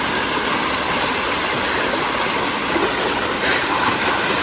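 An outdoor waterfall pours with a dense, steady rushing roar that stays even and loud throughout, with no voices.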